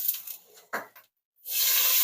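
Onion, carrots, celery and mushrooms hit two tablespoons of butter in a hot pan, giving a sudden, loud, steady close sizzle after a short quiet gap and a few light clatters.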